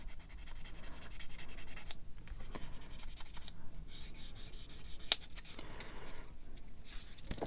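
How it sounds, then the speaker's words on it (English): A sanding stick rubs and rasps against a small plastic part of a Bandai 1:144 Poe's X-wing model kit, with close, quiet strokes in irregular bursts and a brief sharper tick midway. "I can just sand most of that nicer."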